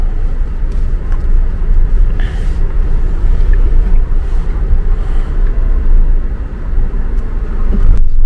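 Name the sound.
heavy car traffic in Chinatown street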